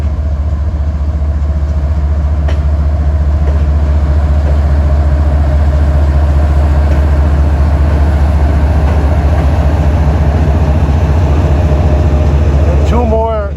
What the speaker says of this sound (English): comes an arriving train with more GEs.